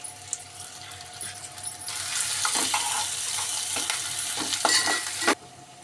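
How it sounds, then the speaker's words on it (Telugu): Chopped onions and green chillies hit hot oil in a pan and break into a loud, steady sizzle that runs for several seconds, with a few scrapes and clinks of the spoon, then cuts off abruptly. "ఇలా తరుక్కున్న ఆనియన్స్ వేస్తున్నానండి ఒక కప్పు, ఫ్రై అవ్వాలి."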